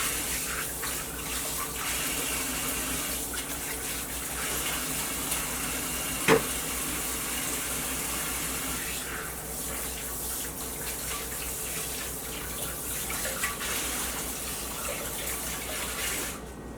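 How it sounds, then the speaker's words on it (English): Water runs steadily from a kitchen tap as hands are washed, a constant close hiss with a faint clink partway through. "Wash my hands"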